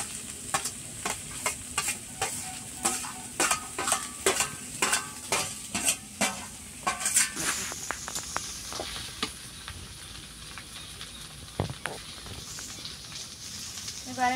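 Vegetables and onions stirred and fried in a pan in an Indian village kitchen, with steady rhythmic scraping strokes over a continuous sizzle, close and fairly loud, then the stirring thins out as the frying carries on.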